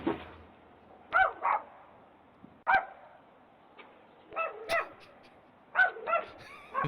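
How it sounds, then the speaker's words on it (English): Chihuahuas let out a series of sharp, high yips and short barks in quick pairs, spaced out by brief silences, clear and fairly close. "These are authentic Chihuahuas."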